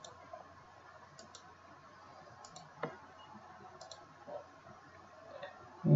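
Computer mouse clicks while editing a WordPress config file, sounding as crisp, close, quiet single and double clicks spread irregularly over a near-silent background.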